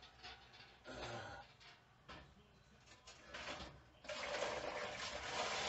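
Water being poured into a canning pot for canning turnip greens, a splashing, gurgling pour in uneven bursts that grows louder and steadier toward the end, close by.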